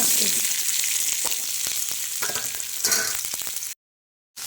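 Onions sizzle and crackle steadily in hot oil, a bright hissing fry with occasional stirring clicks, close by.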